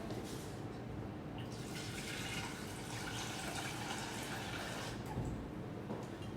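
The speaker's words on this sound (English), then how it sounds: "I'm going to put some water in the pan." Tap water pours steadily into a saucepan holding pasta, a continuous splashing rush that carries on alone with slight shifts in tone as the pan fills.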